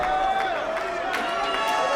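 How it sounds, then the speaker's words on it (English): A wrestling crowd at a women's pro wrestling match jeers in a steady, loud, continuous wash of voices, with no single caller standing out. "Jessie Jones now soaking in the jeers of this crowd."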